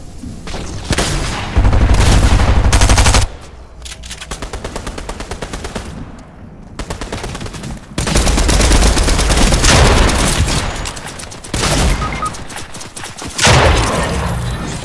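Bursts of automatic gunfire and explosive booms from a Fortnite match, loud and dense with rapid volleys separated by shorter lulls of lighter shooting.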